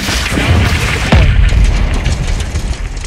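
A missile strike explosion in the Call of Duty: Modern Warfare 2 (2022) campaign, a loud booming blast with a deep low-end thump about a second in, rolling on amid battle noise.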